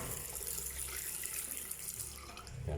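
Water runs steadily from a single faucet in a terrace laundry area. The flow is a continuous, fairly close rush of splashing water with no talking.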